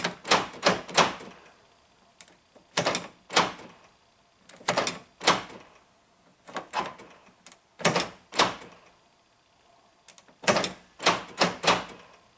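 Toyota power door locks clatter as they lock and unlock, a repeated series of sharp mechanical clunks in quick clusters with short pauses between, loud and close.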